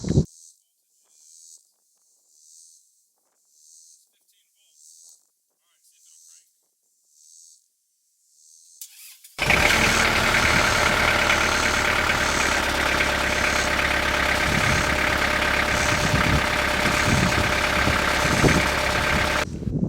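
Tractor engine jump-started with a lithium jump starter: after several faint rhythmic chirps and a short quiet gap, the engine catches abruptly and settles into a loud, steady close idle that continues to the end.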